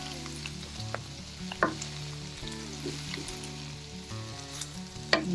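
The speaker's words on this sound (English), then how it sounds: "Now we just need to let it fry." Food sizzles steadily in hot oil close by, with occasional louder pops and crackles and some clinks of stirring.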